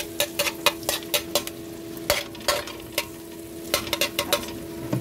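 A spatula scrapes and clatters against a frying pan in quick, irregular strokes over a faint, steady sizzle, close and loud, with no one talking.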